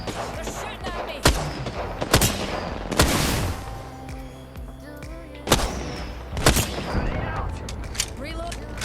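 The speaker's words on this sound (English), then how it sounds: "They're shooting at me." Gunfire in the Apex Legends video game, several loud shots and bursts spread across the clip with a short lull in the middle, over game effects and voices.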